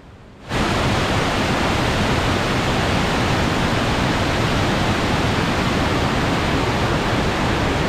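Attukad waterfall in Munnar pouring beneath a road bridge, a loud, steady broadband rush of falling water that rises abruptly after a brief quiet start and stays constant.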